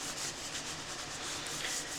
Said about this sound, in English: I start to sand away the paint using a very fine